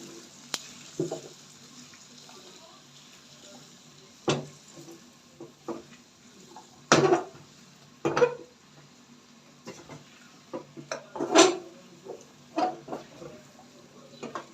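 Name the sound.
stirring spice paste and turnips in a cooking pot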